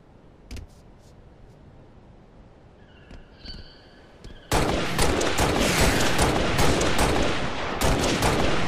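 Gunfire in the video game Halo, a few isolated shots and faint electronic tones, then a dense, loud continuous fusillade of rapid automatic fire for the last half, with no talking.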